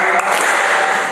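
A church congregation claps along during a sermon, a brief loud burst of massed clapping blended with voices, the sound dense and close.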